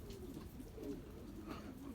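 Pigeons coo softly inside a coop that has been flooded after snowfall, a faint, steady, murmuring call with low repeated coos and no voices over it.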